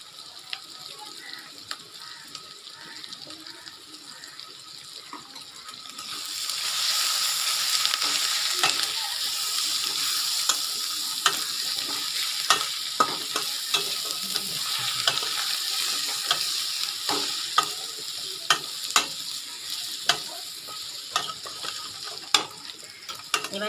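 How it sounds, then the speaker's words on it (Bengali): Spices, including ground cumin, fry for chicken kosha. After a quiet start, a loud sizzle rises and holds while a utensil stirs and scrapes the pan in irregular clicks. "এবার সব মশলাগুলো আমি ভালো করে কষিয়ে নেব একটু"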